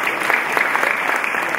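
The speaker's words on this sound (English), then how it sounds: "Can we clap our hands and give God a praise this morning?" A church congregation at a funeral home-going service claps hands together, a dense, loud, continuous patter of many hands filling the room.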